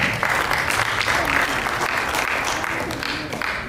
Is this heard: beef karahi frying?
no